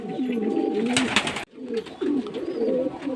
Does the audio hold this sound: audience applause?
no